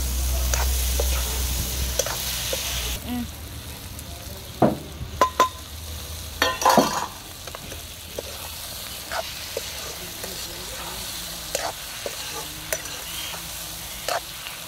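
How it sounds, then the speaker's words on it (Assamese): Onions fry in oil with a steady bubbling sizzle throughout, punctuated by irregular scraping and clinking as they are stirred in the pan. No voices are present. "পিয়াজখিনি অকমান সময় ভাজি লওঁ"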